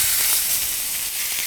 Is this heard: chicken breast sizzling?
yes